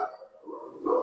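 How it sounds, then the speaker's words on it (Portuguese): A dog named Sheldon barks indoors during a home live stream, a couple of close, fairly loud woofs with a short gap between them, alone with no talk over them. "o cachorro aqui tá latindo"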